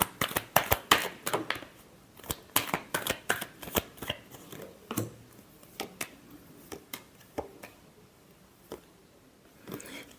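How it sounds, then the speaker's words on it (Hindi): Tarot cards shuffled by hand in quick, crisp riffling bursts, several rapid flurries up front, then sparser single snaps and pauses, close and clear with no talking. "Last shuffle."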